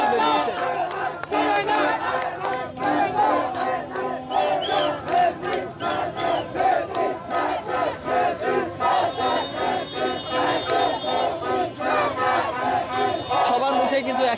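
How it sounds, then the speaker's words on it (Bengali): A crowd of Argentina fans at Dhaka University chants Messi's name in rhythmic, repeated shouts after Messi's hat-trick win, loud and close, with the chant pulsing steadily throughout. "Messi Messi. এবং মেসি স্লোগানে কিন্তু তারা ইতিমধ্যে পুরো ঢাকা বিশ্ববিদ্যালয় উচ্ছ্বাসিত।"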